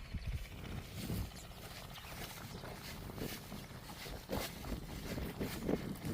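Gusty outdoor wind buffeting the microphone in uneven rushes, with faint mechanical rumbling underneath and no talking.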